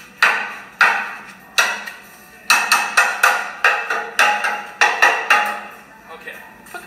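A hammer strikes a car's front end about a dozen times in an uneven rhythm, each blow a sharp, close metallic bang.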